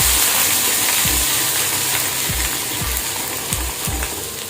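Broadband sizzling of spices frying in a pan (turmeric, coriander and cumin powder with ginger) for a cauliflower paratha filling, steady and close, with a few low thumps of stirring and no talk.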